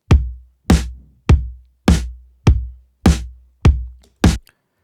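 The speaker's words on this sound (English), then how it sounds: "the sampled drums that Sean had laid out initially, which sounds like this" Sampled drums playing back in a steady pattern, eight punchy hits spaced evenly, each with a deep kick and bright attack decaying quickly into silence.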